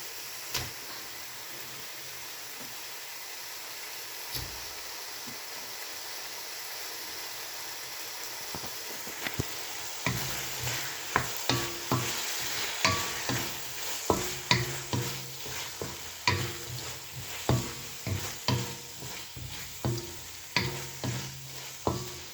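Pork hits a hot pan and fries, a soft sizzle at first that builds into louder, rhythmic scraping and stirring strokes against the pan, close and clear with no voices.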